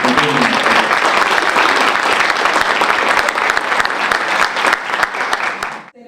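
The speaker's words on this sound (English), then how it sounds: "Please give Rosa a big round of applause for coming here." Loud, sustained applause from an audience fills the whole stretch, dense clapping that stays steady before cutting off abruptly near the end.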